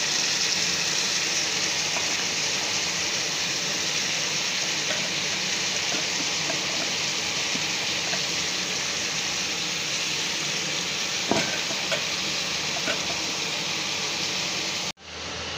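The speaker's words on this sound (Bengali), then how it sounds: "এবার আমি লাউ কুচিগুলো দিয়ে দিই।" Chopped bottle gourd frying in spiced oil gives a steady close hiss and sizzle with faint stirring scrapes, holding evenly for about fifteen seconds before cutting off abruptly.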